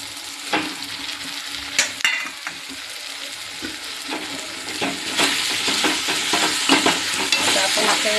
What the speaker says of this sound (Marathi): आता आपण आता वर खाली करूया